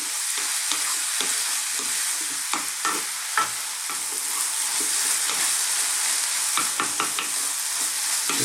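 Vegetable filling for vegan stuffed bell peppers frying on high heat in a pan, with a steady bright sizzle and repeated scraping stirs of a utensil throughout, no voices.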